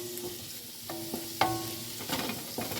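Sausage browns in a big pot, a soft sizzle with periodic stirring scrapes and a sharp clank from the pot, fairly quiet and close with no talking.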